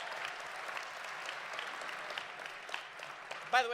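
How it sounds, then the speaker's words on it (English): An audience at a live political speaking event applauds and cheers continuously, a dense steady wash of clapping heard from a distance with a brief louder burst near the end. "What are they cheering for?"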